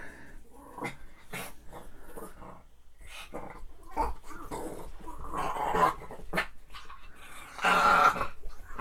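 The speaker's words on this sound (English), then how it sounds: "My dog decided to come in here and start playing." A dog plays and growls indoors, with intermittent low growls, whimpers and bursts of rough vocal noise over about nine seconds, fairly close and growing louder toward the end.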